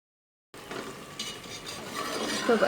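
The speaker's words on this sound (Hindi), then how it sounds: "इसको अब अच्छी तरीके से भून लेंगे ताकि थोड़ा सा ड्राई हो जाए।" Peeled tomatoes stirred and fried in a pan, soft sizzling with repeated scraping strokes of a spoon that build toward the end, after a brief silent start.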